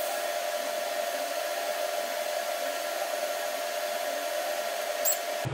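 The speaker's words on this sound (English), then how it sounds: "Ah, fusion welding is awesome." Fusion welding on a custom 3-inch pie-cut turbo downpipe gives a steady, even hiss and buzz that holds unbroken for several seconds and then cuts off abruptly, close by with no talk.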